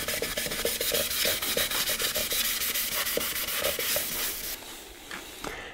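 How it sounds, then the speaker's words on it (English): A scuff pad is rubbed back and forth over a bike helmet's surface to dull it before painting. Close, rhythmic, scratchy strokes repeat quickly, then thin out near the end. "the first step is to rub the helmet with such a scuff pad"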